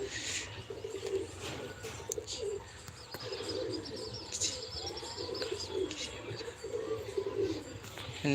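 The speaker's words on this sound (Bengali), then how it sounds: "এই পায়রাগুলো উড়েছিল এই পায়রাগুলো বসে পড়েছে" Pigeons coo repeatedly in a rooftop loft, including young birds, with low rolling calls recurring throughout, mixed with chirps, occasional wing flaps and faint background voices.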